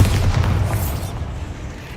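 A Bombarda spell explosion in the video game Hogwarts Legacy, a single loud booming blast at the start that rumbles low and fades away over about two seconds.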